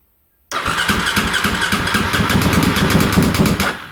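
After a brief silence, the starter motor on a motorcycle that had been in storage cranks in a rapid rhythmic chug, loud and close. The engine catches unevenly for several seconds without fully running, then cuts off.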